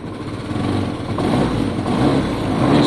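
A Lexmoto motorcycle, a brat-style build, idles steadily while warming up, its engine giving an even, continuous near rumble that stays level throughout with no talk.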